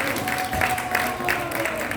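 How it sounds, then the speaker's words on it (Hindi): Audience applause at a live stage play in Indore, steady clapping filling the whole moment at moderate level, with faint voices mixed underneath. "अगर आप लोगों को अच्छा लग रहा है नाटक तो एक बार ताली हो जाएगी।"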